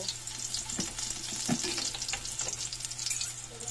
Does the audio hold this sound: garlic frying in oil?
yes